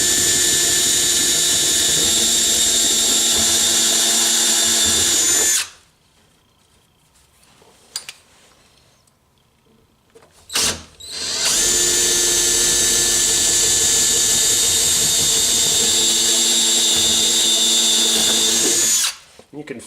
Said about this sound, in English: Turn that drill down.